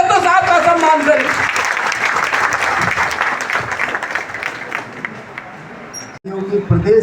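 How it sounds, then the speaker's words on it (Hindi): Loud applause from an audience at a BSP party cadre camp and review meeting, sustained clapping for several seconds that fades, followed by a brief burst of a voice at the end. "एक बार जोरदार तालियों से दोस्तों साहब का सम्मान करें"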